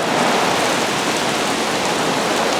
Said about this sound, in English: You can see just started raining.